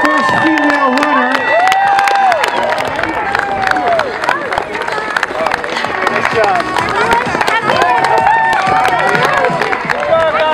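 Loud outdoor crowd at a 5K road race cheers, whoops and claps as runners pass, with shouting voices and talk mixed through the continuous noise.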